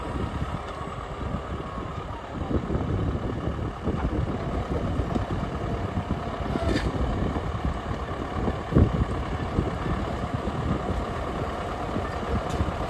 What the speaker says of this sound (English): Alex is in Adam's tractor.